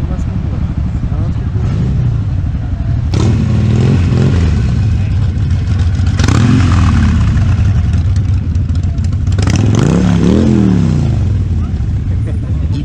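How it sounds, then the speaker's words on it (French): A Suzuki Bandit 1200 motorcycle engine idles and revs in several loud bursts nearby, with pitch sweeping up and down at a festival in America, while people talk over it. "mon ancienne moto, hein. Bandit 1200"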